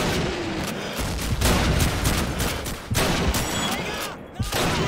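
Rapid rifle fire in Call of Duty 2, a series of loud sharp shots and echoing bursts with brief gaps, close and dense throughout, no speech heard.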